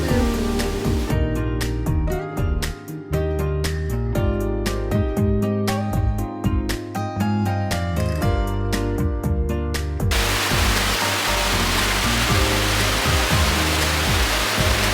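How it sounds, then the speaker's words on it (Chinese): A waterfall near the St. Beatus Caves in the Swiss mountains gives a steady, loud broadband rush in the last few seconds, after a stretch of rhythmic music with beats. "好漂亮哦，这个瀑布。"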